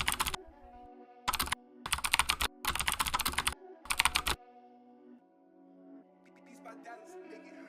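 Bursts of rapid typing on a computer keyboard, several quick clusters of clicks entering a prompt, followed by quieter background sound.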